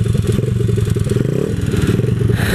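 Loud, close 127cc X7 pocket bike engine running rough and untuned on a test run in the Philippines, a dense rattling putter with clattering mechanical noise and no full-throttle revving.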